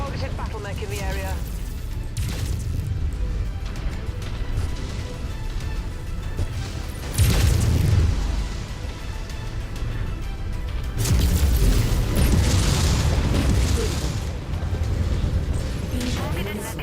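Missiles striking battle mechs in MechWarrior 5: Mercenaries: heavy crashing explosions burst out over continuous combat noise, with a loud hit near the middle and another sustained barrage later, while voices talk intermittently.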